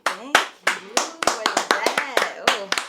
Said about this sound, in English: We got to get a round of applause